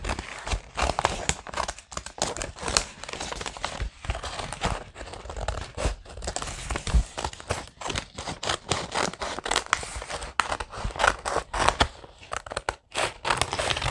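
Scissors cutting material for a rocking horse project, giving a continuous run of close, loud snipping, crinkling and tearing sounds with a rapid, irregular rhythm.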